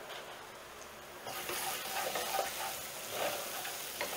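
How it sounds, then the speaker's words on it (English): Tomato paste toasting in oil in a pan, quiet at first, then a close, steady hissing sizzle with faint stirring scrapes. "let the tomato paste kind of toast in the oil"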